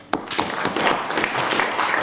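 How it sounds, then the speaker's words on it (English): A conference audience at Meru University of Science and Technology applauds the chairman: dense, steady clapping begins abruptly and holds at an even level for about two seconds. "let's give the chairman a better clap."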